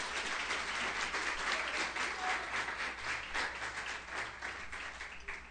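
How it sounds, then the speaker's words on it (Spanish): A church congregation applauds for a couple of seconds, a thick, sustained patter of many hands that stays fairly even and then tapers gently, with no voice over it. "dile un aplauso a Dios por eso"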